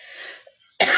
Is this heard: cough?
yes